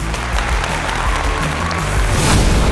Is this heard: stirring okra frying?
no